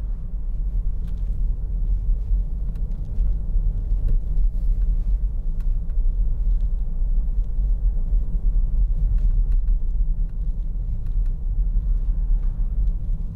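A 2011 Peugeot 3008 2.0 HDi diesel engine ticks over with a low, even rumble, heard from inside the car while it rolls along slowly.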